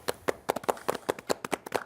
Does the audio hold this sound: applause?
yes